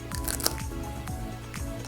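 Crunchy ice cream cone with chocolate and white sprinkles bitten close up, giving several quick crisp crunches and crackles in a steady chewing rhythm.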